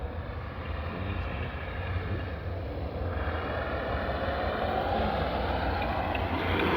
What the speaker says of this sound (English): You know, the winch, fully functioning winch there works.